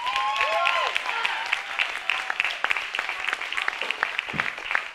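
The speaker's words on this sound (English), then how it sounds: "Clap for the geniuses." Audience clapping at an open-stage performance night, scattered claps and crowd noise with some brief vocal sounds mixed in, fairly close and steady for several seconds.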